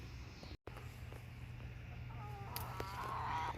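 Chickens clucking and calling softly in the background over a low steady hum, with a short dropout early on.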